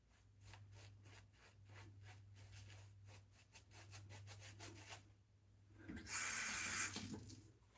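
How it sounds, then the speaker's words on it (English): Close, faint, rhythmic swishing of a shaving brush working thick lather, steady repeated strokes followed by a brief burst of running water. "The sound of thick lather."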